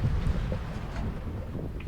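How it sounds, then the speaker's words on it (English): Strong wind buffets a sailboat at sea, a steady low roar and rumble of gusts against the microphone with faint rustling, continuous and fairly loud throughout. "With the wind picking up so much"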